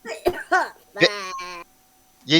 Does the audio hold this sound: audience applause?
no